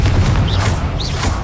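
Confringo, an explosive spell in the Hogwarts Legacy video game, sounds as a dense low boom with crackling bursts and two brief whooshing tones, loud and sustained through a short stretch with no talking.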